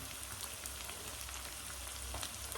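Saag fries in a pan with a steady, close sizzle as spices go in, a continuous crackling hiss with no talking.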